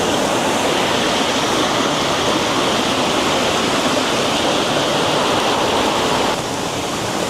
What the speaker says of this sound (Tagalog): Batis.